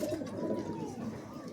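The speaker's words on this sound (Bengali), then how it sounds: "এই একটা পায়রা জোড়া করলো রিন্টুদা, জোড়া মিলেছে" Giribaz pigeons, a newly mated pair in a home loft, coo in low, soft, continuous murmurs with a faint gurgling quality, close by and steady throughout.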